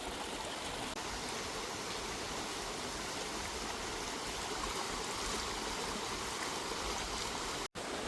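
A river flows in a steady, loud, broadband rush of water, continuous and close throughout with one brief dropout near the end.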